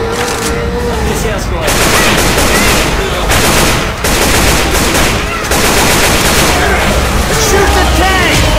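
Sustained automatic gunfire pours at the Tank in Left 4 Dead 2's Dead Center mall, loud rapid bursts with brief pauses, layered over game noise and voices calling out.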